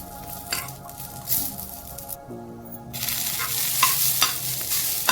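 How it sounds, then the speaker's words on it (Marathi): Garlic cloves sautéing in hot oil for a chakvat (bathua greens) bhaji, a steady close sizzle with scraping stir strokes from a spatula, a brief quieter gap midway, then louder frying; no talk. "आता मी यात थोड्याशा लसूण पाकळ्या टाकत आहे यालाही एक दोन मिनिटे असं परतून घ्यायचं"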